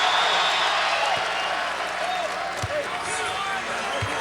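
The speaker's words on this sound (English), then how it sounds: "And the crowd's into it." A college basketball crowd at a KU versus TCU game cheers after a three-pointer. The arena noise is a loud, sustained roar with scattered claps and faint court thuds, and voices talk over it.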